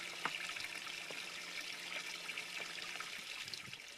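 Water trickles and splashes steadily from a small pump in a homemade solar water heater prototype, a faint, continuous liquid flow with occasional drips and no talking.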